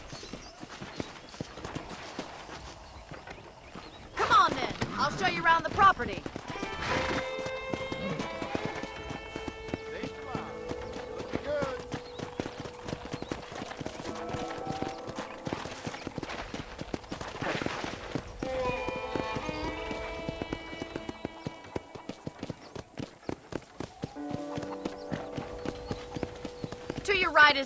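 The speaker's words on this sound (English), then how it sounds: "let's see if you can still ride a horse." Horse hooves clip-clop steadily in Red Dead Redemption as riders travel at a walking pace, a continuous rhythmic beat under periodic dialogue between characters, with an occasional snort or whinny.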